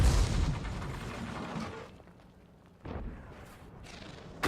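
A StuG III Ausf. G tank gun fires in a tank video game, with a heavy boom at the start that rolls off into rumble. A second sharp blast follows a few seconds later, then another crack right at the end.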